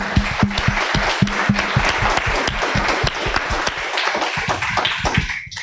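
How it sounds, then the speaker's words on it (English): An audience applauds steadily, many hands clapping at once, loud and close, the clapping thinning out toward the end. "A big round of applause for our panelists."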